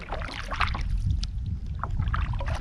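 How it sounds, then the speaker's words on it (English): A kayak paddled across a lake, soft water swishes and dips from the strokes repeating close by over a steady wash of low wind rumble, with no voices. "This will be a long video of me paddling around the lake again."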